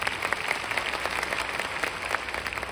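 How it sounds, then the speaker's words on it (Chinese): Audience applause for a company manager at a business event, a dense steady clapping that carries evenly through the whole stretch without any talk over it. "所以真的，我们给 Nelson 一个掌声。"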